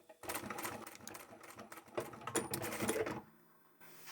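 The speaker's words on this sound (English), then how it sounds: "I'll sew a few stitches and then I'll back stitch" A sewing machine stitching through fabric from an old men's tie with extra bulk, running in fast rhythmic bursts for about three seconds, then stopping abruptly and falling quiet.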